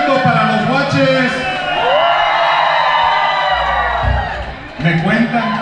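A lively crowd shouts and cheers for a Tierra Caliente band at a civic recognition event. The loud, sustained roar of whoops and yells swells and falls, mixed with music and an announcer's voice.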